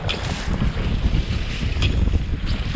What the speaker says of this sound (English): I can hear the water from here.